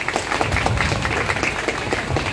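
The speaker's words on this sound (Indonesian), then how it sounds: "Tepuk tangan dulu." A church congregation claps in a short, loud burst of dense applause, many hands together at close range without pause.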